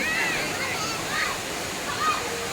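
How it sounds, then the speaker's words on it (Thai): A natural waterfall in a Thai park rushes in a steady, even roar close by, with faint voices over it. "ทุกคนคะเป็นน้ำตกนะคะ"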